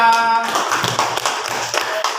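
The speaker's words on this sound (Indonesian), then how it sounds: "berikan tepuk tangan dulu untuk kawan kita" Classmates in a school classroom clap for a fellow student's presentation, a steady dense patter of many hands lasting throughout, with a faint voice at the start.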